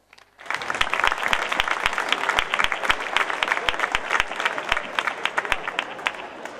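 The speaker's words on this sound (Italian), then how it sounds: "merita secondo me, un grosso applauso." A crowd at a football club presentation applauds the mayor, a lively burst of many hands clapping with some sharp individual claps standing out close by, sustained for several seconds.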